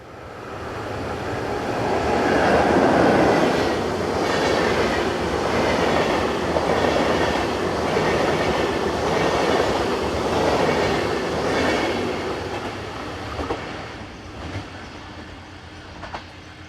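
A Swiss class 460 electric locomotive, 460-018, hauls a southbound Basel–Luzern passenger train through a small station. Loud, steady wheel rumble and rail noise swell as the train passes close by, then thin out and fade toward the end.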